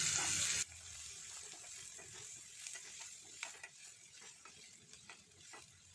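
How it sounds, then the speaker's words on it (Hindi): Onions fry in a pan with ginger, sizzling steadily and softly while a spoon scrapes and stirs, after a brief burst of louder hiss at the start. "इसके बाद डाल देंगे हम इसमें प्याज, प्याज को गोल्डन ब्राउन करेंगे।"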